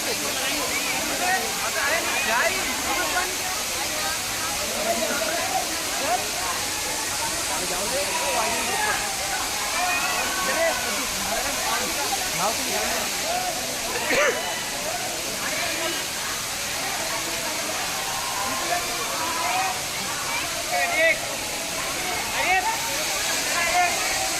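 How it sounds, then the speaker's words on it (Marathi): A steady rushing roar of a waterfall near Mahur fills the scene, broad and continuous, with faint voices mixed in beneath it. "इकडे पण एक धबधबा आहे"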